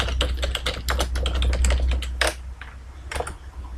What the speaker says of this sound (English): So I'll type sum of actual values.